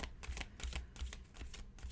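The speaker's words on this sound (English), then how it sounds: "I'm just going to shuffle twice and then take the one off the top," Halloween oracle cards are shuffled by hand, a rapid run of crisp riffling and flicking bursts repeating in quick rhythm, close and fairly quiet with no talk.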